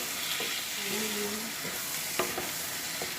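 Whole potatoes fry in a pan for chole curry, giving a steady, moderate sizzle with a few soft stirring scrapes and clicks.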